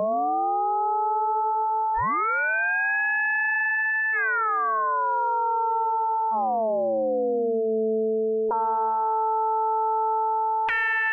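Synthesized sine tones in Bitwig 2.0 glide and step between pitches, with ring modulation adding metallic, inharmonic overtones that bend and shift over a sustained electronic drone.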